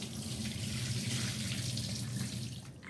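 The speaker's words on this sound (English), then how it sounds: "After 10 minutes of soaking the potatoes in the water, I'm going to strain it." Water running steadily from a kitchen tap into a sink as soaked grated potatoes are strained, a continuous close rushing flow with no talk.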